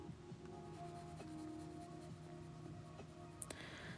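Caran d'Ache colored pencils scratching across paper in a soft, steady scribble, with a couple of sharper taps near the end; quiet and close, no talking.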